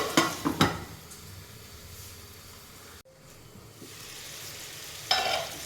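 A spoon scraping and stirring dried fish curry masala in a hot pan, with a soft sizzle underneath and a few sharper clinks against the pan near the start and end.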